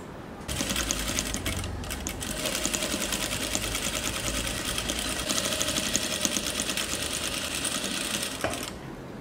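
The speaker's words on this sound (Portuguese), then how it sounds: "Então vamos costurar todos os pares." A sewing machine stitches pairs of fabric pieces for a Dresden Plate patchwork placemat, running steadily at a fast, even pace for about eight seconds with no talking.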